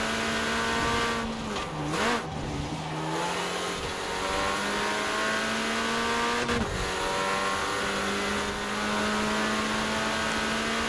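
A Mini Countryman rally car in the racing game Forza Horizon 4 drives hard, its engine droning and climbing steadily through the gears with shifts and brief dips, loud and continuous throughout, with no talking.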